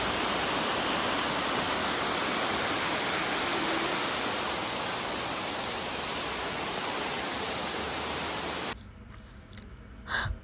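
Waterfall in Meghalaya, near the Laitlum canyon area, roars as a loud, steady broadband rush of falling water, constant for most of the stretch before cutting off abruptly near the end.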